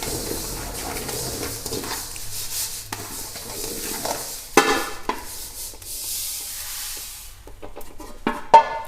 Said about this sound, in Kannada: ನೋಡಿ ಪಟ ಪಟ ಅಂತ ಸೌಂಡ್ ಬರ್ತಾಯಿದೆ